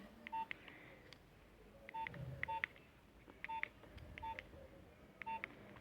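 Keypad tones from a Nokia 3510i mobile phone as a PIN code is entered, a series of short, crisp beeps in irregular pairs and singles, fairly faint and close, with no talking.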